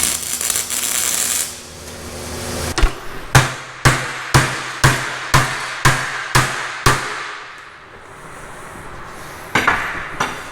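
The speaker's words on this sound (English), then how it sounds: "Let me get the welder and I have to tack this on." Tack welding with a welder on a John Deere 6000 Hi-cycle sprayer in a farm shop: an opening stretch of buzzing work noise, then about nine evenly spaced sharp metallic cracks close by, a pause, and one more burst at the end.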